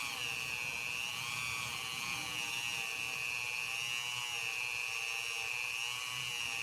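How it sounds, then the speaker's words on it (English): A Dremel rotary tool runs at low speed, grinding the back bolsters of a Case trapper pocketknife, giving a continuous steady whine with a grinding undertone that holds evenly throughout. "Not running my Dremel very high."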